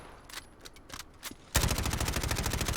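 A Modern Warfare-style MP5 submachine gun in a Fallout 4 mod fires a sustained rapid burst, loud and close, after a few quieter sparse clicks and shots.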